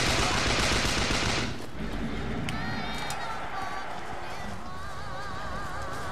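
Rapid automatic gunfire from Bioshock Infinite, loud and dense for the first second and a half, then dropping to a softer, busy combat bed with faint musical tones and a singing voice drifting over it.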